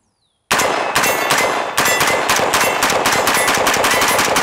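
PSA Sabre AR-15 with a 14.5-inch barrel firing steel case ammunition in rapid succession, loud cracking shots about every quarter second with metallic ringing, one short pause early on.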